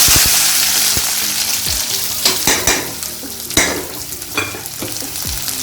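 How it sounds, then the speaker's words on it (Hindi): Onion and green chilli hit hot oil in a kadai and fry with a loud, close sizzle, broken by sharp scraping stirs and clatters of the spoon against the pan. "यहाँ कढ़ाई में मैंने ऑयल गर्म होने के लिए रख दिया है। सबसे पहले हम प्याज और मिर्च को डाल देंगे।"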